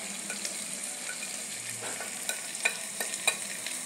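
Tuscan sausage fries in a pot, a soft steady sizzle with several scraping clicks of a spoon stirring near the end, fairly faint and without talk.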